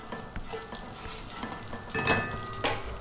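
Oil heats in a pan for chicken curry and gives a soft, continuous sizzle, broken by a few brighter crackles and small stirring clatters close to the microphone.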